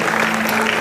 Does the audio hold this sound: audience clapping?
yes